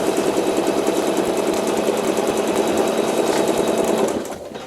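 A sewing machine running a basting stitch through quilt layers, a fast even mechanical chatter that stays loud and steady before winding down at the end.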